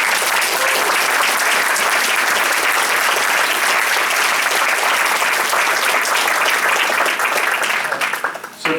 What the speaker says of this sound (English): first of all, a round of applause for Ann Corcoran.